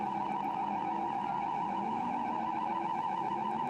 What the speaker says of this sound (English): Pit lane klaxon sounding as the next grid of cars heads down the pit road ready for its race.